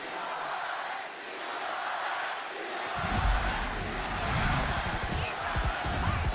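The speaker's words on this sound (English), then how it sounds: "First time we're hearing the crowd really" A large arena crowd at the Valorant Champions 2023 grand final, PRX versus EG, roars and cheers, swelling suddenly partway through into a loud, sustained wall of noise beneath the casters' commentary.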